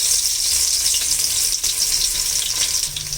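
Bay leaf, dried chilli and garlic sizzling in hot oil for chicken ghugni, a steady, close and fairly loud frying hiss with faint stirring scrapes and no talking.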